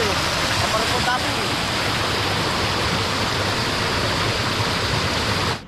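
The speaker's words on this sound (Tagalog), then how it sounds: "Itatapon po natin ng tubig. Pababa." Floodwater pours steadily out of a typhoon-damaged rice paddy, a loud, continuous rushing and splashing close by that holds almost unchanged before cutting off at the very end.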